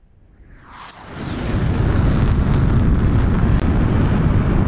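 A deep, rolling F-14A Tomcat jet engine roar in DCS World swells up from near silence over about two seconds, then holds loud and steady, rumbling like distant thunder.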